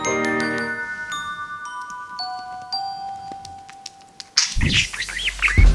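Budgie chirps and tweets ring out over tinkling chime-like tones, growing into busier, louder chatter toward the end.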